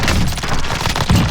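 A fast burst of automatic gunfire in the battle royale game Warzone, dense rapid cracks packed into about a second, loud and close.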